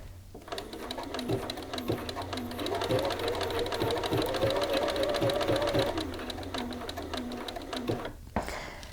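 A domestic sewing machine runs steadily while stitching on a button, a close, fast mechanical whir with rhythmic needle clatter that stops near the end, with a voice speaking softly in the background.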